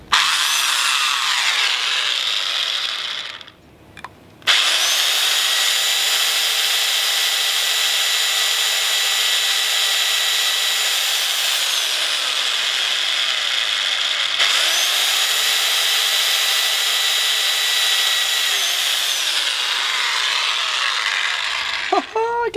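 A drill bit bores through stainless steel on a boat gate build, giving a loud, continuous high-pitched grinding whine in two long sustained runs separated by brief pauses, with no talk over it.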